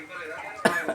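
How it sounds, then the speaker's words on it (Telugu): A person cooking spicy masala chicken gives one short, sharp cough near the end, close by and loud, after a stretch of quieter mixed sound. "మసాలా ఎక్కువ వేసినట్టుంది, దగ్గులు వేస్తుంది"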